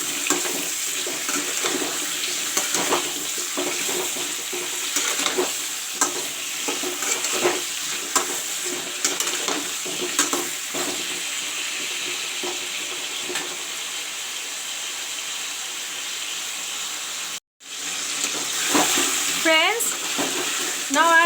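Pumpkin pieces with salt fry in a pan with a steady, close sizzle and crackle, broken by stirring scrapes and a brief dropout near the end, with no talking.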